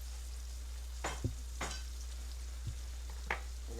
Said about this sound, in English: We're gonna stir this around.